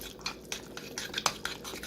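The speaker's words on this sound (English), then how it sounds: "Give a good stir." A pot of sausage chip dip being stirred, with quick, close scraping and clinking strokes of a utensil against the pot, repeating in a steady rhythm for a couple of seconds.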